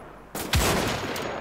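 Gunfire rings out in the video game Wolfenstein: The Old Blood, a sudden loud shot followed by a second sharper crack and a lingering echoing tail, with no talking.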